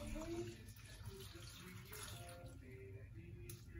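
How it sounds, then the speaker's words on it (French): Water pours steadily into the bowl of a Monsieur Cuisine Smart kitchen machine, a faint continuous splashing trickle for a few seconds. "Donc je vais venir ajouter de l'eau."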